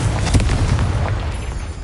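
Fire spell explosions from Confringo casts in Hogwarts Legacy on PS5, a dense, continuous booming rumble with repeated bursts across the whole stretch, loud and close with no gaps.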